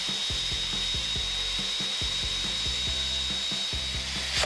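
Power drill countersinking into very hard timber, a continuous high whine with rapid repeated grinding pulses, close and steady for the whole stretch without talk.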